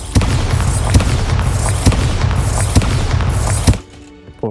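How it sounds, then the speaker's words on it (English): Bombarda spell blasts from the game Hogwarts Legacy, a loud run of repeated booming explosions about every half second for nearly four seconds, then cutting off abruptly. "Bombarda!"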